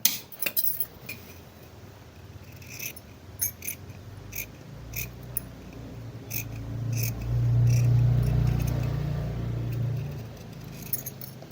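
Shears cut through shirt fabric along the front armhole, a run of soft metallic snips and crisp clicks near at hand, with a low rumbling swell in the background.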